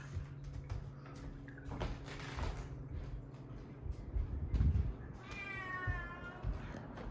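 A cat meows nearby, with a short call early and a longer, wavering, rising meow toward the end, over a low background hum and some thumping handling noises.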